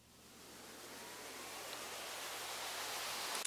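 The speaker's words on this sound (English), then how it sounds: "It's also just more white noise." A smooth wash of hissing white noise layered in a tech house music track swells gradually and holds steady, broadband and even, with no other sounds on top.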